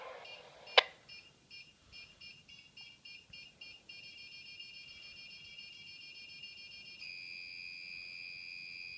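A prop airsoft bomb beeps out a countdown after a sharp click, evenly spaced beeps running together into a continuous high tone before it goes off.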